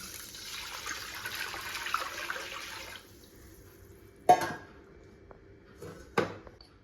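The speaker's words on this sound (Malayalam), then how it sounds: "ഇതിലേക്ക് വെള്ളം ചേർത്ത് കൊടുക്കാം." Water pours into a biryani pot with cinnamon, cloves and cardamom, a steady hiss for about three seconds, then quiet, broken by two short knocks of the pot.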